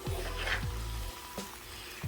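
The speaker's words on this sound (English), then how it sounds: "I'm turning this on low, and I'm just going to let this simmer for about maybe 15 to 20 minutes" Beef and Italian sausage sauce simmers in a pan, giving a soft, close bubbling sizzle. Low thumps and handling knocks come through in the first second, then the sound settles into a quiet gentle crackle.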